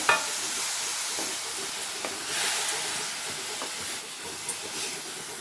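Grated carrots sautéing in ghee for carrot halwa, a soft continuous hiss and sizzle at moderate level with faint occasional stirring scrapes, no voices.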